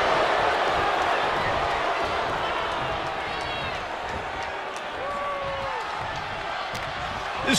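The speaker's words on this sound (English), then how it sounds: "This crowd is thunderous right now." Roaring arena crowd at a WWE 2K24 tag-team wrestling match with Cody Rhodes, Roman Reigns and the Bloodline, a loud dense cheer running throughout with thuds of ring action and a commentator talking over it.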